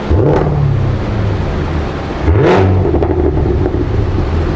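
Two sharp revs from a Cadillac CT5-V Blackwing with an AWE SwitchPath exhaust, each rising and falling, with a deep throaty burble between them, close and loud with no talking.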